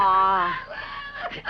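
A little parrot mimics noises, a short squawking, crow-like call with a harmonic, wavering pitch that breaks off into scratchier fragments, close and fairly loud.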